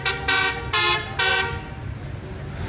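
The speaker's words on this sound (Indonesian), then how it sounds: "Corong atas ini ya, nggak tahu dari bis apa." Upper air horn on a bus, a telolet-style horn, blasting three loud, sustained tones in close succession, then fading into traffic rumble.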